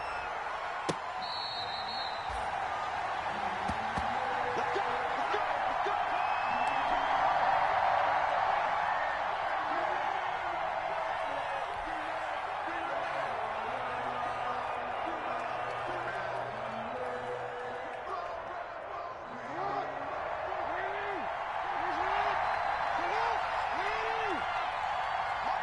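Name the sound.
stadium crowd cheering at NFL game, from a video game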